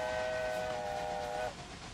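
A steam train in the Railway Empire 2 video game sounds a steady tonal whistle that holds for about a second and a half and then cuts off, leaving a continuous rolling hiss and rumble of the running train.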